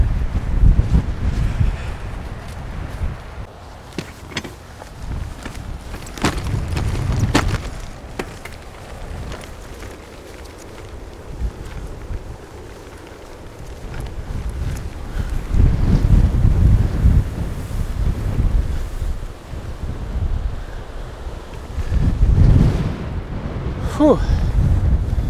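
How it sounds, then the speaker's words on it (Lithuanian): Ocean waves surge and a strong wind buffets the microphone, producing a rough, continuous roar that swells and fades in gusts, loud and close throughout with no talking. "Galingas, galingas vandenynas."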